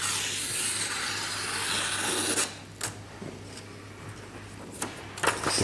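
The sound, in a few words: knife cutting, coarser sound than a Japanese knife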